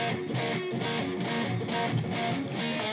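An electric guitar plays the opening verse riff of a blues-rock song at full tempo, a driving shuffle of rapid repeated strummed chords in a steady, even rhythm, loud and close.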